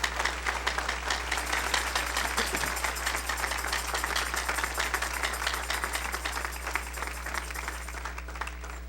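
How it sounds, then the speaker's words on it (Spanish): A church congregation claps together in sustained, dense applause that fills the room at an even loudness from start to finish, with no voices rising above it. "Dale un aplauso a Cristo Jesús."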